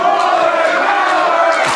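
Indie wrestling fans cheer in support of Mullet Man, a loud, sustained roar of shouting voices filling the arena without pause.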